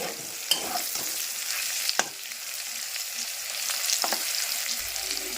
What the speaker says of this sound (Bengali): আলু দিয়ে একটু ভাজা করছি